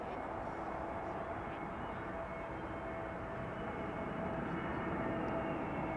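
An EasyJet Airbus A320neo arriving from Palma de Mallorca lands on runway 36 right at Amsterdam Schiphol, a faint, steady distant engine roar and rumble.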